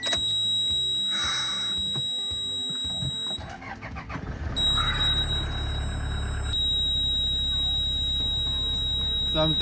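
Electronic warning tone from a car, a steady high beep held for several seconds, then cutting out and resuming, heard over engine rumble and cabin noise.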